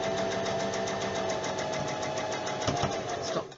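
A sewing machine runs steadily, its rapid mechanical stitching rhythm continuous and close, slowing briefly near the end.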